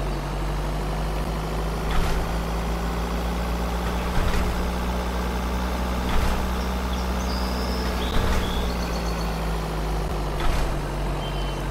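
A vehicle engine drones steadily as it drives across a bridge in Junkyard Simulator 2024, with a low constant hum and evenly spaced soft thumps about every two seconds, like tyres crossing bridge joints.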